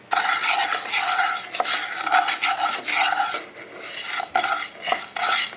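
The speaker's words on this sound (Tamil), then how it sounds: "இந்த புழுங்கலரிசியும் வறுத்து எடுத்துக்கலாம்." A dry, scraping rattle of parboiled rice grains roasted and stirred steadily in a pan, with repeated rhythmic strokes and faint metallic scrapes, close and continuous.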